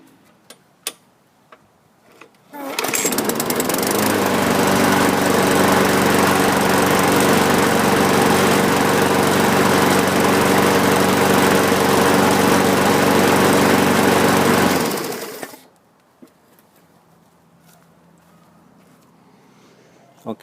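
A Poulan Pro 21-inch push mower's small engine fires up after a few faint clicks and runs at a steady, loud drone for about twelve seconds. It then shuts off and winds down, leaving near quiet.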